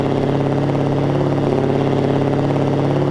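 A Scania V8 truck engine in Euro Truck Simulator 2, a loud, steady, deep rumble that holds at one pitch throughout without a clear rise in revs.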